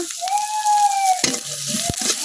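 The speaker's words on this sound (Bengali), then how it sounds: "এখন আমি পেঁয়াজ রসুনের সাথে আদা কিছুক্ষণ ভাজা দিলাম।" Onion, garlic and ginger sizzle steadily in hot oil, with a few scraping stirs and a faint whistle-like tone partway through.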